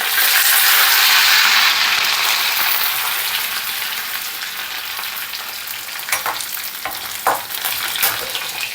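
Onions and curry leaves fry loudly in oil with a dense, hissing sizzle. The sizzle eases slightly over time, and a few stirring clinks and scrapes break through near the end. No one speaks.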